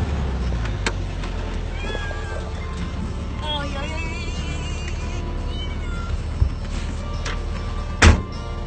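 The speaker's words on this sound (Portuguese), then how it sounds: "Um gatinho também resgatado." A rescued kitten meows repeatedly at close range over steady low background noise, with a few brief knocks and a louder burst near the end.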